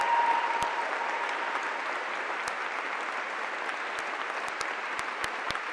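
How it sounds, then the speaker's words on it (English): Crowd clapping, a continuous dense patter of many hands held at an even level for several seconds, with a few brief clicks and knocks popping out over it. "Morons clapping like seals."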